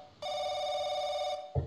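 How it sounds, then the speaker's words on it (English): A telephone rings in The Crooked Man video game, one steady electronic ring lasting over a second, loud and close, with a short thump after it. "Well, the phone's ringing."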